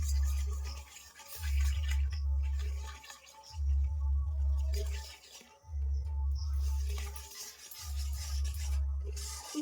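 Flattened rice is kneaded by hand into a stiff dough with hot water, producing rhythmic low rubbing and squishing strokes repeated roughly every two seconds, close and steady.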